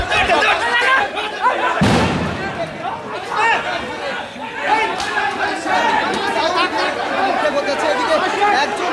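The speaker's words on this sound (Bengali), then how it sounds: "সাউন্ড গ্রেনেড নিক্ষেপ ওইদিকে চলছে" Flash-bang sound grenade thrown during a student protest in Gulistan: one sharp, loud blast early on cuts through a continuous roar of crowd chatter and shouting that carries on throughout.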